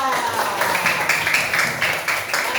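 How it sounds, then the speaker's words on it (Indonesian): Third-grade children clap for a classmate in class, a brisk, uneven round of small-hand applause close by that runs steadily throughout with a few voices mixed in. "Tepuk tangan untuk dia."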